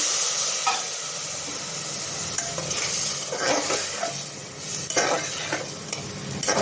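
Water is poured onto elephant foot yam frying in a pan, setting off a loud, steady sizzle and hiss of steam with stirring scrapes running through it.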